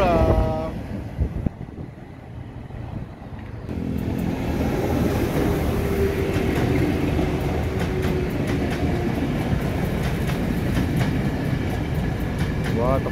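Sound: commuter electric train passing

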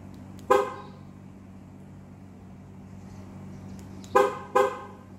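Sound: Audi A3 8V lock/unlock acoustic confirmation beeps

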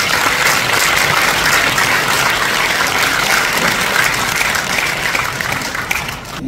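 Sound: applause for the city mayor

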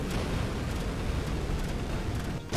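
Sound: bomb explosions in a video game

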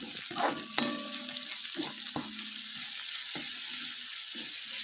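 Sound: ingredients sautéing in a pan for thagarai greens stir-fry

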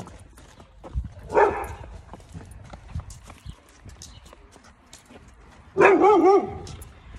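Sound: dog barking

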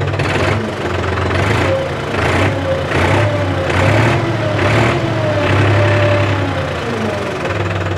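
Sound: New Holland 551 tractor engine idling

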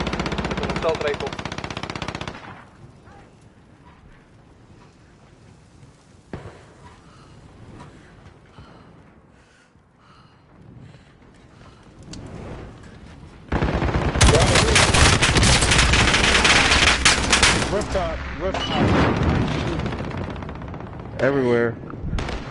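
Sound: assault rifle gunfire in a video game

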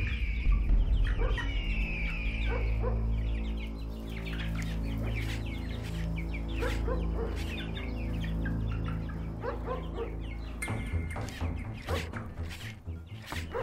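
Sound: chicken clucking in a cartoon

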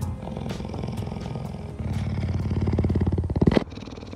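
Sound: puma purring like a domestic cat

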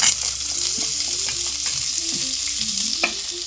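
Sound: onions frying in oil in a kadai

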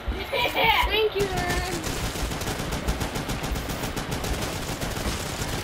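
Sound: automatic shotgun firing in Call of Duty Black Ops III video game

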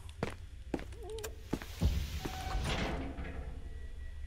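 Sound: footsteps and doors opening in SCP Foundation video game

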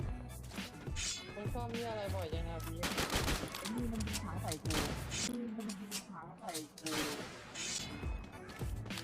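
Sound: gunfire in the video game Free Fire

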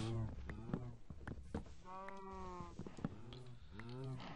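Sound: cows mooing in Minecraft video game

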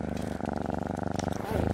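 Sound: cat purring

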